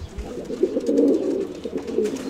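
Racing pigeons coo close by at a pigeon race in Veria, a soft, throaty warbling call that swells and falls in a short burst.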